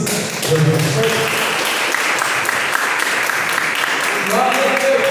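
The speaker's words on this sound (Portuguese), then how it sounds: "Aplauda o Senhor Jesus." A church congregation applauds during a healing and deliverance worship service, loud continuous clapping mixed with voices and a steady musical backdrop throughout.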